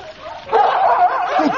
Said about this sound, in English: those dogs are definitely getting louder